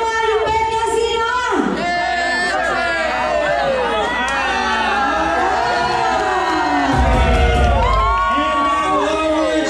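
A loud crowd shouts and cheers for contestants during a school paper games battle, with overlapping voices, whoops and a surging roar throughout, swelling louder near the end.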